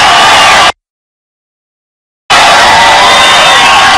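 Large political rally crowd of thousands cheering and shouting, a loud, roaring wall of voices that drops out briefly before resuming at full strength.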